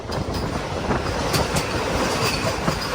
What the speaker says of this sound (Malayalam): ഇത് കാസർഗോഡ് തിരുവനന്തപുരം വന്ദേ ഭാരത് വയാ കോട്ടയം